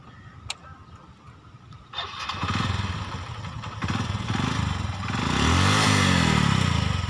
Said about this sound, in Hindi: पहले बाइक को स्टार्ट करके देख लेते हैं कि बाइक स्टार्ट हो रही है या नहीं।